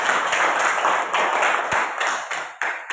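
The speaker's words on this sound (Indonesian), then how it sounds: "Mari kita berikan dulu tepuk tangan untuk kelompok 4" Classroom group applauding a student group's presentation, a dense, steady patter of many hands clapping at close range that thins out toward the end.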